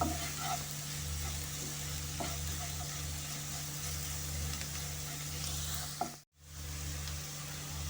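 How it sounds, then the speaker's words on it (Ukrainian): Spices stewing in a pan for a warm Polish-style beetroot salad give a steady, close sizzling hiss that runs unbroken for several seconds, with a brief drop near the end and no talking. "І отак тушимо одну хвилину."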